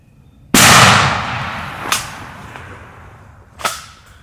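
A single sharp gunshot fired while hunting from a bulldozer blind, loud and close with a long fading tail, followed by two fainter sharp cracks spaced a couple of seconds apart outdoors.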